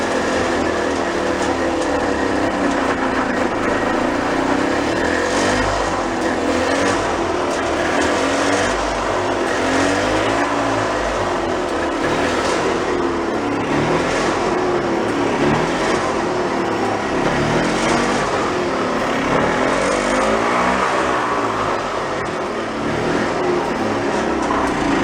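A golf cart engine with no choke runs loudly and steadily, its pitch swelling and easing as gas is given and let off, close and continuous with no talk.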